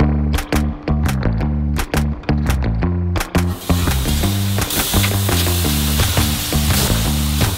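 Frozen ground beef burgers fry in a pan. After a few seconds of rhythmic background music, a loud, steady sizzle begins and continues under the music until the end.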